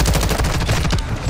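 Rapid bursts of suppressed gunfire from a Call of Duty: Modern Warfare II multiplayer match, loud and dense with quick repeated shots running through the whole moment, no voices over it.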